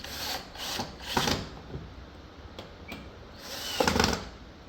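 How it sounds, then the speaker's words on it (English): Screws being driven into an LG washing machine door handle during replacement, heard as a few rough scraping, rasping bursts close by, with short clicks between them and no talk. "Now we can tighten this 2 screw first"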